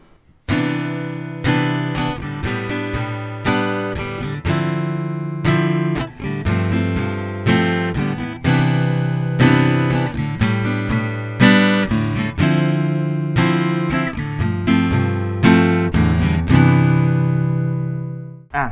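An aNueNue MC-10E ukulele strums a chord progression in a steady rhythm, bright repeated strokes changing chords throughout, ending on a held chord.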